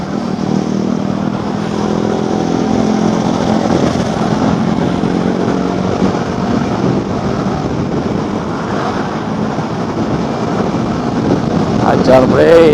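Motorcycle engines droning steadily in road traffic on a commute from Bekasi to Jakarta, a continuous loud rumble with wind buffeting, rising slightly near the end.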